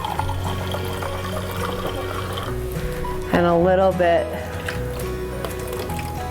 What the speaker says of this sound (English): I'm gonna also put a little bit of water in the bottom of the pan